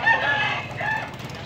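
A young banded gamecock at Carbon market in Cebu crows loudly and close, one sustained strained call stretching across the whole moment.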